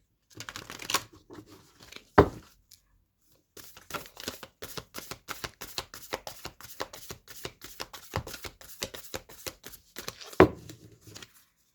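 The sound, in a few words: shuffling cards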